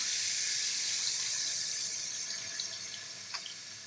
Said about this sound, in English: So now let's turn on the hot water.